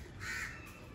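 A single crow caws once among dense trees, a short harsh call at moderate distance over a quiet background.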